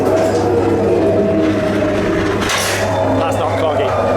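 A ghost train ride car runs along its rails at Blackpool Pleasure Beach, a loud continuous rumble and hum with a brief rattling burst midway, close and constant.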